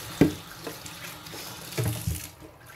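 Tap water splashes into a kitchen sink while clams are rinsed for a stir fry, with a soft steady flow and a few louder splashes and knocks, fairly close.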